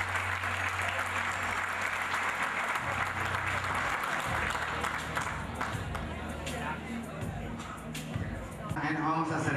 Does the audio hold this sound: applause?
yes